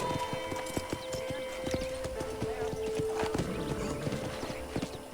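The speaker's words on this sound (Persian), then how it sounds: "اسب رم کرد." Horse hooves clatter in a steady galloping clip-clop on a ranch in the video game Red Dead Redemption, with a brief whinny, background game sounds and people talking over it.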